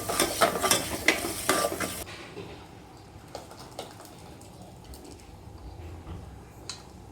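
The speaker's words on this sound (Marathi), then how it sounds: "मसाला परतत घेते मी" Masala paste being sautéed in a home kitchen pan for a Marathi festive meal, a busy stirring and light sizzling burst for the first two seconds, then fading to faint scraping and quiet room sounds.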